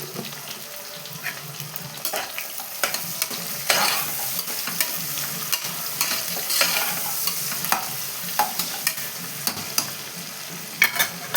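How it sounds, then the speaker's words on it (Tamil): Onions sautéing with salt in a pan for a chicken biryani, a continuous soft sizzle broken by frequent scraping and stirring clicks of a spoon, close and with no voices. "இப்போ கொஞ்சமாக உப்பு சேர்த்து வதக்கிங்க. ஆனியனை சீக்கிரமாக வதங்கிடும்,"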